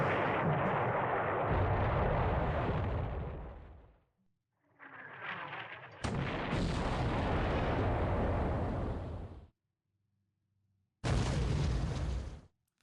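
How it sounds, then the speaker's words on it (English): .50 caliber machine guns in a PT boat battle from a World War II naval video game fire in heavy, sustained bursts. Three long roaring volleys are broken by short quiet gaps, and a softer sound comes through in one of the pauses. "The 50 cals are spraying this guy up."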